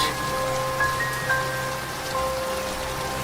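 Heavy rain pours as a drama sound effect, a dense, even hiss of drops on surfaces running steadily throughout, with faint sustained tones beneath.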